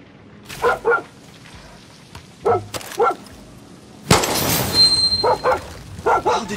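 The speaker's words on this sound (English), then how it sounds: "¿Qué? ¿A dog?" A dog barks in Far Cry 6, a few short bursts of woofs spaced across a game scene with a rain-like hiss and a sharp noise burst midway, fairly close and clear.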